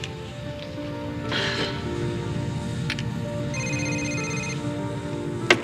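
Mobile phone ringing in a room shortly before taxiing, a repeating electronic ringtone melody heard clearly over background murmur, with a sharp click at the end.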